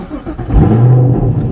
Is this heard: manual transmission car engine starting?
yes